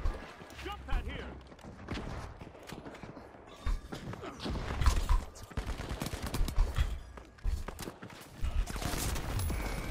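Bursts of gunfire crackle through a fast video game match, with rapid shots and impacts over busy game sounds while a player talks throughout.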